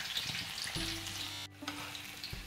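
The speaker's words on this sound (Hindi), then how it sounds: "अब हम इसको ऑयल में डालेंगे और इसे फ्राई करेंगे" Steamed chicken for murg musallam fries in hot oil with a dense, steady sizzle. A low hum joins partway through, and the sizzle briefly dips near the middle.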